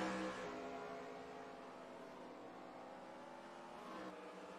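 Race car engines from a Winston Cup stock car racing game at Infineon, with the cars bunching through the hairpin, make a steady, fairly faint droning roar with layered engine tones and no voices.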